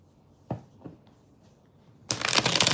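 Tarot cards are shuffled in a quick dense riffle near the end, loud and close, after a couple of soft taps and handling sounds.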